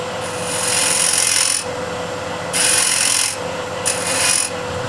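Negative rake scraper cutting wood on a spinning lathe, three loud hissing scraping passes separated by quieter stretches of the lathe's running hum.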